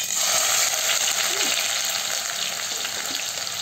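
Cumin, mustard seeds and coriander seeds frying in hot oil for a paneer veg biryani, a steady close sizzle and crackle filling the whole stretch with no one talking over it.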